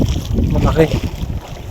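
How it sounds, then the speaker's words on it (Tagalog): Strong wind buffets a fishing boat out jigging at sea, a steady rushing roar with water wash underneath, while someone talks briefly over it. "Lakas ng hangin."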